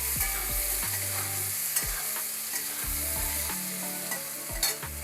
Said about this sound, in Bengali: এবার বেগুনের মধ্যে সামান্য একটু নুন দিয়ে, হলুদ দিয়ে ভেজে নিলাম।